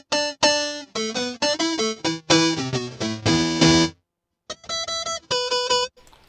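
A bright, buzzy square-wave synth from a Mooer GE300 plays quick arpeggiated note patterns in short bursts, with a brief pause before the sequence resumes; retro video-game character.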